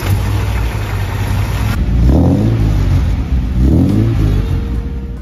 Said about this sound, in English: 1966, Austin-Healey 3000.